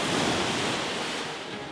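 Ocean waves wash onto a beach under high water on a rough, murky day, producing a steady broadband roar of surf that fades slightly toward the end, with no voices.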